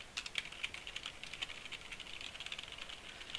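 Code being typed on a computer keyboard: quick, irregular keystrokes clatter faintly and close by, with no voice over them.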